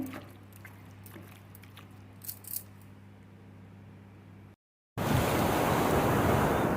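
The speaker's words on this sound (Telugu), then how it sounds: "బాపట్ల దగ్గర సముద్రానికి వచ్చాను" Sea waves break on the beach at Suryalanka near Bapatla, a steady wash of surf that swells loud and close after a brief gap, with wind buffeting the microphone.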